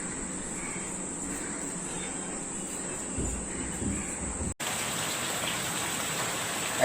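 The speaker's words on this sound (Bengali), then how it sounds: "বৃষ্টি পড়ছে" Steady rain pours down on a rainy day, a dense even patter that continues throughout, with what may be faint crow caws in the background.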